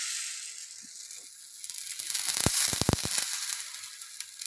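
Pesarattu batter, a green gram dosa, sizzling in an oiled pan: a steady hiss with crackles that swells to a louder burst midway, then settles back.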